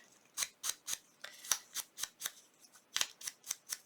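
Scissors snip a craft piece in about a dozen crisp, close cuts, quick and slightly irregular, each a sharp little crunch in a quiet room with no talking.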